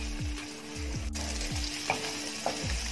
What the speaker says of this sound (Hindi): इस तरह मिक्स कर लेना, लो फ्लेम में करके इसको ऐसा अंडे को अच्छे से मिक्स कर लेना